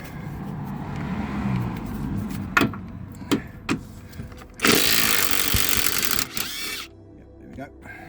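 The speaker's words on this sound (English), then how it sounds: "will the impact gun do it now?" An impact gun rattles loudly in a harsh burst of about two seconds, loosening a shock absorber bolt on an LTI TX4 London black cab. Before it come clunks and taps, and someone talks in the background.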